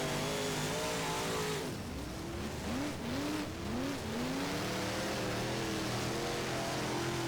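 A UMP Modified race car in the rFactor racing game drones loudly with a steady high engine note, dipping and climbing through a few quick revs mid-way before holding near the top of its range.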